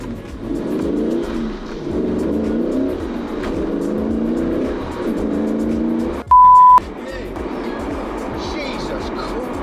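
An Ultima RS sports car accelerates hard in repeated revving pulls, its engine note rising in waves, with a short electronic beep partway through and voices talking in the cabin.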